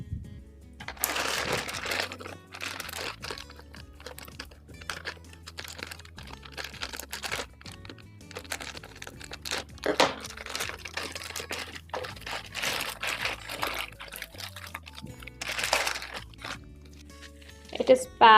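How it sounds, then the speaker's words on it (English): Bubble wrap is peeled off a boxed Realme 3 Pro phone with close, crisp crinkling and rustling bursts that come in irregular clusters, separated by short quieter gaps. "It is packed with a bubble wrap because it's fragile, so I'm just gonna take this off."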